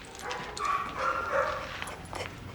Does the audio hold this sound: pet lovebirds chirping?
no